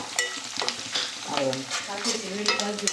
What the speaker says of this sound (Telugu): తాలింపు బాగా వేగింది